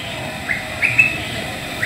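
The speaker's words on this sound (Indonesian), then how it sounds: "Ada suara-suara burung di sini teman-teman, menambah kesejukan pada saat saya berkunjung di sini." A few faint, high bird chirps ring out intermittently over a steady low background hum at Sukodono railway station in Lumajang, Indonesia.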